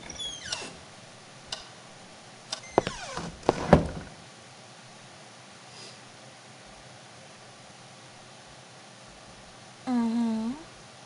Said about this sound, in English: The little drawer wouldn't open.